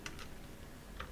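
Keystrokes on a computer keyboard while text is entered into a free browser-based graphics design tool: a brief quick cluster of taps at the start and another single tap near the end, close and soft over a faint steady room hiss.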